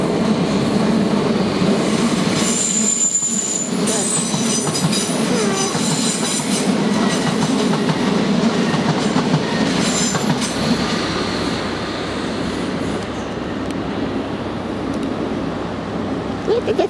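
Loud rumbling train noise at London Paddington station with rattling wheels and a high metallic squeal, continuous throughout, with a faint voice in the background.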